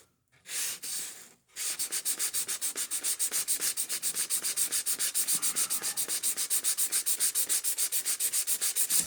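Rapid rhythmic sanding with 800 grit paper, scrubbing off surface rust caused by condensation on a wooden boat, close and steady after one brief opening pass and a short pause.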